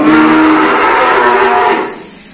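Cattle in a cattle pen give one loud, close, sustained low moo that carries for nearly two seconds before fading into quieter background noise.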